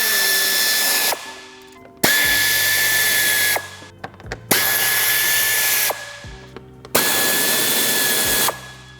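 A power tool removes the under tray bolts on an MK7 VW GTI in four loud, close whirring bursts of about a second and a half each, separated by brief pauses with faint handling noises.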